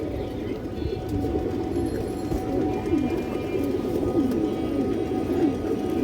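A large female pigeon of a tournament-flying breed coos in soft, repeated rolling calls that run steadily throughout, close by, over a constant low background hum.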